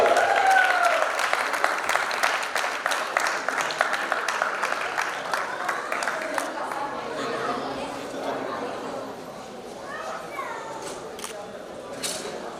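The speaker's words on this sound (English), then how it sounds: "give a round of applause to Trupti" Dense applause from a Diwali dinner crowd greeting the event's first lady, strong at first and gradually thinning, with chatter and scattered voices rising as the clapping fades.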